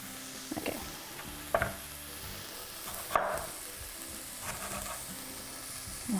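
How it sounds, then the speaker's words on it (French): Tomatoes sizzle and simmer in a pan for shakshuka, a continuous soft frying hiss broken by a few stirring scrapes and clinks, fairly close and with no voices. "Puis ça va mijoter, donc ça va vraiment devenir comme une sauce."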